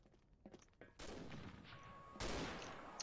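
Automatic gunfire in a one-on-one first-person shooter match, with quiet clicks and shots building into two loud sustained bursts of rapid fire.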